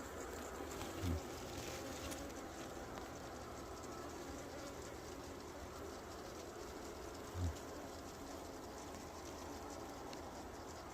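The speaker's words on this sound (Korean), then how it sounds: "요 말벌 소리가 나네 또" A steady hornet buzz hums continuously at low volume near a native honeybee hive, with a couple of faint soft knocks in the background.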